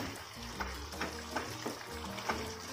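Chicken curry with grated dried coconut is mixed in a pan over a low sizzle. Soft, rhythmic scrapes and taps from the stirring spoon come every half second or so, and no one speaks.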